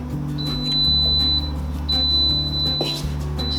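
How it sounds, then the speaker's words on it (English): A kitchen stand mixer gives its add-in warning while mixing batter for spiced pumpkin bread: thin high beeps repeat in short pairs over the loud, steady hum of the running motor. "that little beep beep, that's my add-in warning, and it tells me it's time to add stuff"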